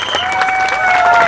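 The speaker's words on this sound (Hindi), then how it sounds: "तो फिर से ताली बजा दीजिए अपने आप के लिए।" A crowd at a youth protest gathering claps loudly and steadily for just over a second, with bright whistle-like tones running through the applause.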